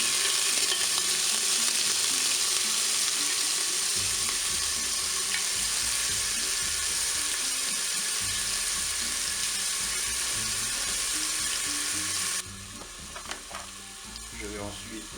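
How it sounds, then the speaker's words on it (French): Onions browning in a Cookeo multicooker, a steady close sizzle and frying crackle running throughout with occasional stirring, the texture thinning and dropping slightly near the end. "je vais commencer à faire dorer mes oignons"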